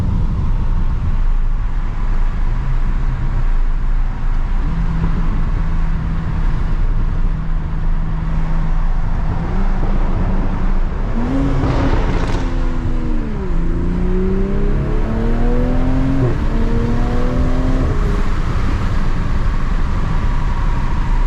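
A 2020 Toyota Supra downshifting inside a tunnel, its engine droning steadily and then rising and dropping through gear changes, with crackling exhaust pops echoing loudly off the walls.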